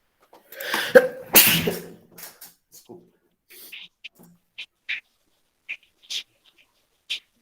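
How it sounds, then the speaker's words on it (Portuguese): One sharp, loud human sneeze bursts out, followed by a series of faint scattered taps and clicks in an otherwise quiet room during a Portuguese-language class lecture. "Espirrando aqui."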